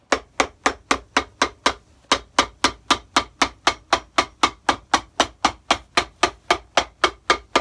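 Rapid, regular hammer blows strike a shell cordovan Alden shoe during restoration, each hit crisp and loud up close, in a steady run broken by one short pause.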